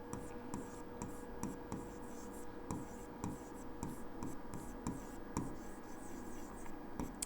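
Chalk or marker scratches across a board during a Class 10 probability maths lesson in Hindi, making faint, continuous rubbing strokes with short taps between them over a low hum.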